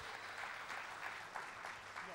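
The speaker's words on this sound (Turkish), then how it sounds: "Alkışlarla uğurluyoruz." Studio audience on a Popstar singing contest applauding as a contestant leaves the stage, continuous clapping at a distance, quiet in level, with voices over it.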